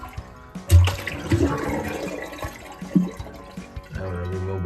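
A toilet flushing during a tank leak repair as water drains from the tank, a close rushing and gurgling swirl with a few knocks, continuing steadily with no talk.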